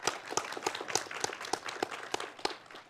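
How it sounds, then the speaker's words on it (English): Faint, sparse audience clapping after a talk on energy efficiency, a handful of distinct, evenly spaced claps heard from a distance with no voices. "big round of applause for the presentation"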